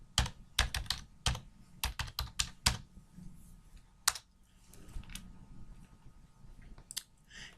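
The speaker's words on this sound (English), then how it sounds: "go ahead and key in Florida property appraisers" A search being typed on a computer keyboard, close, crisp keystrokes in quick bursts and scattered single taps with brief pauses, no talking.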